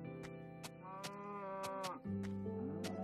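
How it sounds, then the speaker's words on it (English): Cows moo in Minecraft, several long, droning low calls overlapping against a game music bed, with sharp clicking footsteps or hits scattered throughout. "let's go and get these cows"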